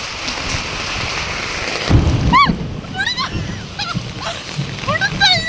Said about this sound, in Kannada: ಈ ಥರ ಮಳೆ ನನ್ನ ಲೈಫಲ್ಲೇ ನೋಡಿಲ್ಲ